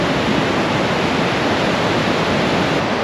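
Chaotic white water rushes through a clear river in a deep Fiordland chasm, a loud, continuous broadband roar with no pauses and no voices.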